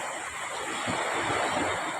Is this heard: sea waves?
yes